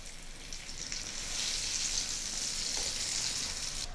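Eggplant slices frying in hot oil in a pan, a bright, steady hiss and sizzle that swells after the first second and continues evenly, close and fairly quiet.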